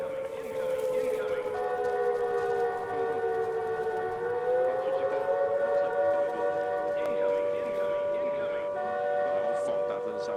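Loud, steady wail of a civil defense siren in a tactical shooter game, a sustained tone that dips and slowly rises again across the whole stretch, with faint background game noise underneath.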